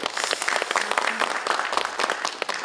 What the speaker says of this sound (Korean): 김정태 단장님 다시 한번 수고하셨다는 박수 좀 부탁드리겠습니다